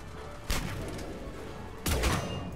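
Two sharp sniper rifle shots ring out in the video game Mass Effect 3, spaced over a second apart, each a loud crack with a brief rumbling tail over quiet background ambience.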